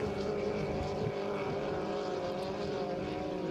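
Racing powerboats of the 2.5L class on a race course at St-Félicien give off a steady, droning engine roar at full throttle that holds evenly throughout.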